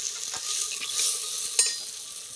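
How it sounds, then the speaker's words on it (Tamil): Onions frying in a clay pot on a village outdoor cook fire, a steady bright sizzle with two sharp scraping knocks of a spoon stirring against the pot, close up and without talk. "வெங்காயத்தை நல்லா கிண்டி விடணும்ல"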